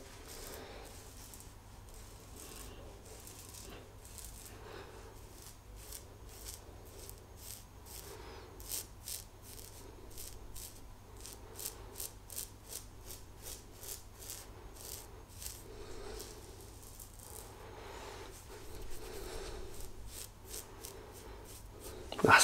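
An adjustable stainless steel REX Ambassador double-edge safety razor set mild scrapes through stubble in rapid rhythmic strokes, soft crackling rasps in bursts with brief pauses, close to the ear and quiet, with no talking.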